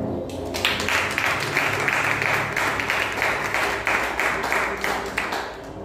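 A church congregation applauds in dense, sustained clapping that fills the room, steady and loud throughout, with voices mixed faintly underneath.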